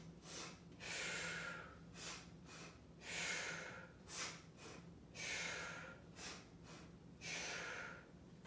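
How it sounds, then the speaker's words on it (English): Rhythmic percussive breathing during an intermediate Pilates mat exercise, a series of sharp, forceful exhales in regular bursts, close and clear with no talking. "Use that percussive breath."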